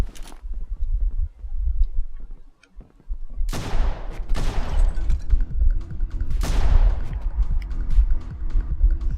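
Rapid bursts of video-game gunfire as guards are gunned down, several loud volleys with sharp onsets ringing out in quick succession over a low rumbling game soundscape, with a short lull before the shooting starts.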